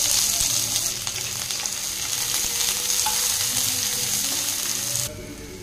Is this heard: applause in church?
no